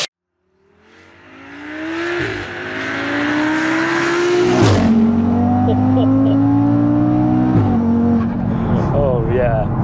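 A 700 bhp Audi TTRS running on ethanol fires up after a brief silence. Its engine builds into loud, sustained revving with several sharp upshift breaks as it drives off, staying close and powerful throughout.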